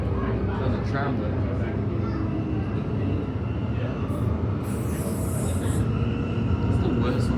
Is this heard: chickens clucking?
no